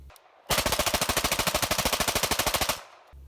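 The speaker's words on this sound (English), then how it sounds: "it's easy to bump fire" A PAK 9 9mm pistol bump-fired outdoors lets off a loud, rapid burst of roughly twenty-five evenly spaced shots over about two seconds, then stops, with quiet before and after.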